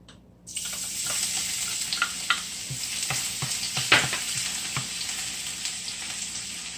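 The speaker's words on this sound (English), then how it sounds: "Our oil is hot now. Let's put our garlic." Garlic dropped into hot oil bursts into a sudden, loud sizzle that carries on steadily, with a few spatters and stirring clicks, close up and without speech.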